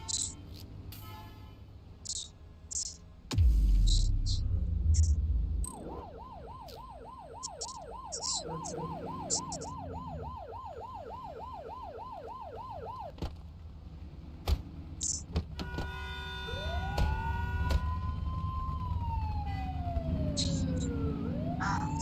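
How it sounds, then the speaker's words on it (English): Police car siren wailing in a fast repeating warble, then switching to a long rising and falling sweep, loud and close over engine rumble and short bursts of other sounds. "You're only meant to use the siren in emergencies."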